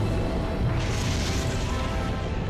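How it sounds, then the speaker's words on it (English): A massive meteor impact explosion sounds as a deep, continuous roaring rumble that swells with a hissing rush partway through and holds steady to the end. "It would be a massive explosion with chunks of molten material flying around the Earth ballistically"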